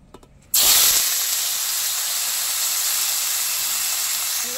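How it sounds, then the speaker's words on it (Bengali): Soya chunks dropped into hot white cooking oil burst into a loud, close sizzle that starts abruptly after a brief quiet moment and holds as a steady, bright hiss. "তেল গরম হয়ে গেছে, এবার সয়াবিনগুলো আমি ঢেলে দেব।"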